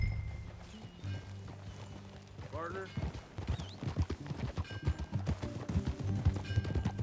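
Horse hooves clip-clop in Red Dead Redemption 2, a steady rhythmic gait building as riders set off, with a short whinny early on and people talking over it.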